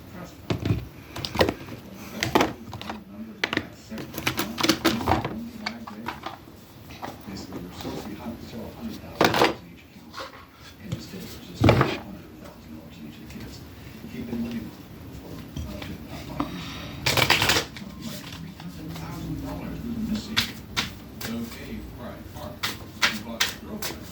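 Tarot cards from a Celestial Insights deck being shuffled and handled, with soft riffling and tapping clicks in irregular bursts, close and moderately loud, under and between a woman's speech.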